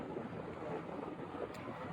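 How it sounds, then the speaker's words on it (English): Steady wind rushes and buffets the microphone, a broad, continuous roar with no voices and only slight gusting. "it's too windy"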